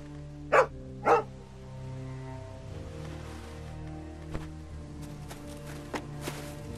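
A dog in The Walking Dead Season 2 video game gives two loud, close barks in quick succession, followed by softer game ambience with faint footsteps and light clicks.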